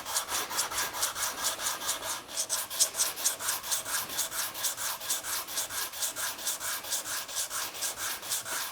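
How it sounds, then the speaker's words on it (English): Rhythmic back-and-forth rasping of sandpaper against the wooden sole of a scrap-wood block plane, steady strokes about three per second, close and fairly quiet, no voices. "we have everything kind of sanded up there now, almost finally sanded"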